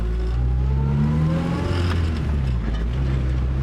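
Honda Civic EK9 Type R with solid engine mounts revving hard from inside the car, a loud, rising and falling engine whine that climbs in pitch, with no speech.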